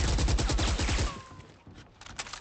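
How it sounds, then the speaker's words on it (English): A fast rhythmic burst of automatic gunfire in Valorant, a dozen or so evenly spaced shots for about a second, then a brief pause and a few scattered quieter shots. "he's shooting at a wall"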